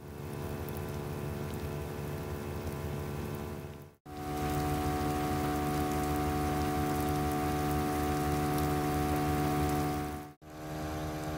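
Heavy downpour drums steadily on a vehicle outdoors on a mountain pass trip, a dense continuous hiss with a steady mechanical hum underneath, cut by two brief dropouts.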